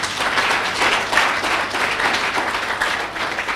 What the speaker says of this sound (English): I think this woman deserves a round of applause.